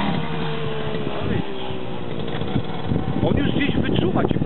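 Small Romet Pony motorcycle engine revving as the throttle opens, a buzzing engine note rising and wavering under nearby talk.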